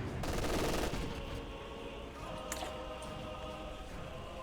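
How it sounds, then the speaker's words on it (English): A rifle grenade fires in the World War II strategy game Company of Heroes 2, with a dense crackle of gunfire and blasts early on that gives way to a softer, sustained battle rumble and a sharp crack near the middle. "Rifle grenade fires."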